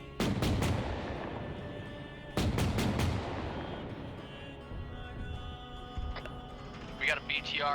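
Mortar launcher firing in the Arma 3 military game, several loud booming shots in quick bursts near the start and again around the middle, with rumbling decay, background battle noise and radio chatter beneath.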